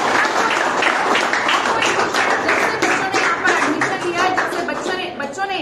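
Students in a coaching class burst into loud, sustained clapping for their mathematics teacher, a dense close-up patter of many hands that continues steadily throughout, with some voices mixed in.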